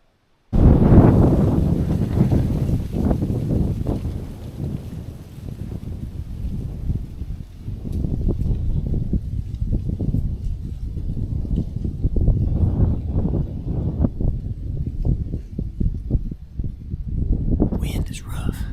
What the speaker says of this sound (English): Wind is rough.